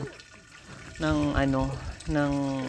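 Strong spring water gushes out of a hole in the rock at a remote Aeta mountain settlement, a continuous splashing flow heard close up, with someone talking over it for much of the time.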